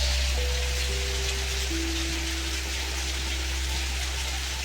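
Steady monsoon rain patters on a surface in the morning, a continuous wash of drops with a low hum running underneath.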